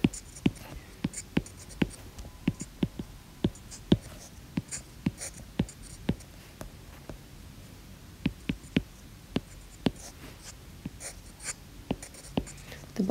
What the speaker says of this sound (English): And this is how you draw the shape.